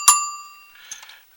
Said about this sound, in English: Got a nice little bell.